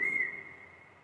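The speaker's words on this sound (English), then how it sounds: "So he is going to whistle" A patient whistles a single sustained note during a facial muscle exam testing the buccinator, steady and fairly clear for about a second before fading slightly.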